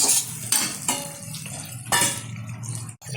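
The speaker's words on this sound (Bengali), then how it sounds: "প্রথমে একটু গাজরটা নেড়ে চেড়ে নেব 1 থেকে 2 মিনিট মতো।" Carrots being stirred in a pan while cooking fried rice, with a run of scraping and clattering bursts from a utensil against the pan, close and fairly loud, with no talking.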